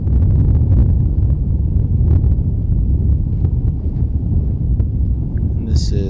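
Strong wind buffets the microphone on an open disc golf course, a steady low roaring rumble lasting throughout, with a brief higher noise near the end.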